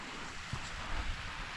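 Waterfall near a farm, a steady broadband rush of falling water with low rumbling surges, continuous and fairly close, no voices.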